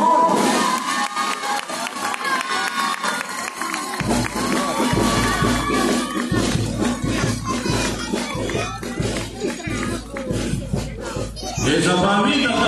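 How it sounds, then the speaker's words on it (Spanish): A crowd at a marinera dance exhibition during a San Juan Bautista festival in San Pablo breaks into loud applause and cheering that swells suddenly and stays sustained and dense, close and filling the space. "Vamos a recibirlos con fuertes y calurosos aplausos."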